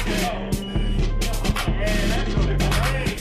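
A loud, busy hip-hop beat with thumping bass hits landing at uneven, rushed intervals, chaotic and driving, with no voices over it.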